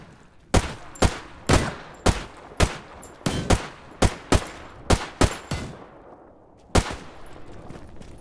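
Gunfire in the STALKER video game: a quick string of about a dozen sharp, loud, close shots, unevenly spaced, then a pause and one final shot, with no talking.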